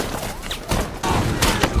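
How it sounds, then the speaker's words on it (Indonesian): Gunfire in a wartime film scene, German troops spraying rifle fire at a soldier waving a Soviet flag: a few broad, heavy bursts and thuds under a noisy battle soundtrack. "Jong Dae mengibarkan bendera Soviet yang membuatnya diberondong senapan oleh Jerman."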